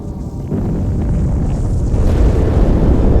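A heavy, rumbling explosion in the video game Halo 2 roars up after a brief lull, its low boom swelling and lingering like a blast with wind-blown debris.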